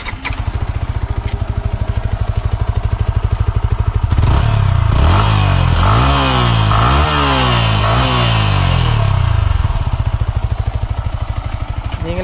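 A 2022 Yamaha MT-15 Version 2 motorcycle fires up close by, settling into a loud, steady exhaust idle broken by several sharp throttle blips and revs, then easing back to idle.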